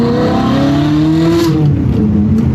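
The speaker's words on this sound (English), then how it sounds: "Such a good spot to test out the car for the first time because there's so much shifting going on" A Ferrari 360 fitted with a DIY gated manual conversion revs through tight, bumpy roads, its loud engine note climbing, dropping at a shift around the middle, then pulling again, up close with no voices.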